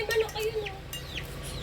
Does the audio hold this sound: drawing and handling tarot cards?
no